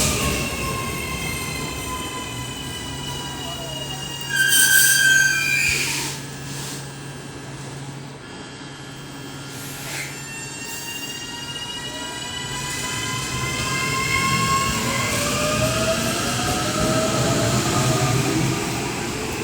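Auckland AM-class electric train unit 892 passing through a station on a Britomart to Manukau service, with loud wheel squeal and rising motor whine, a rumbling swell as it goes by at close range.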